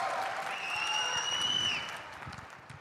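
A live stage audience at a forum applauds, a dense wash of clapping that swells and then fades away, heard together with a sustained high electronic tone.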